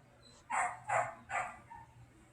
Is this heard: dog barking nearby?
yes